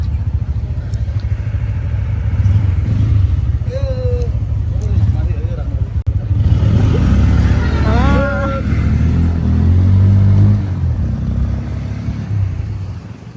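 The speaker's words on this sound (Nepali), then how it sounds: "म चाहिँ स्कुटरमा जाँदैछु" A scooter riding along a mountain road toward Manang, its engine and wind making a steady low rumble throughout, with a person talking over it.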